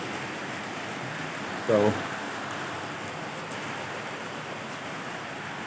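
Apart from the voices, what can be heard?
late afternoon rain falling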